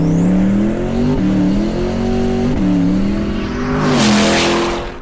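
A Hennessy twin-turbo Corvette C8 revs up toward about 3,000 RPM, a loud close engine drone climbing in pitch with brief dips at gear changes, ending in a rush of exhaust and air noise.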